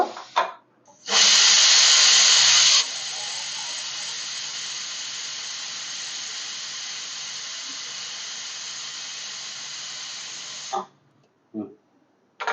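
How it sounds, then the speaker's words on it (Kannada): A pressure cooker on a home stove, cooking palak gravy, whistles with one long, loud steam hiss that starts as a piercing blast and then holds steady for about ten seconds before cutting off. "ನೋಡಿ, 1 ವಿಜಿಲ್ ಕೂಗಿದೆ."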